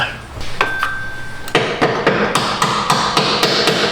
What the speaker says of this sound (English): I'm going to get a brass hammer instead of trying to get my impact in there, see if I can just knock that bolt